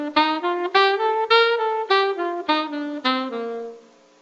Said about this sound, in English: Bebop phrasing was still a quarter note tied to an eighth note triplet,